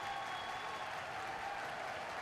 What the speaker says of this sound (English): Crowd ready to get the swell going here.